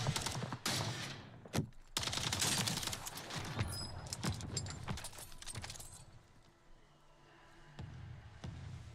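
Sniper and other gunfire crackles through a solo battle royale video game fight, sharp shots and bursts snapping loudly across the first half before thinning into scattered distant reports and a low lull.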